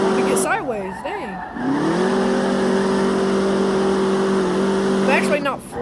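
Tires of a drag-racing truck on ET street tires squeal while drifting sideways in a racing video game: sweeping wavering screeches, then a long sustained engine-and-tire tone, loud and close.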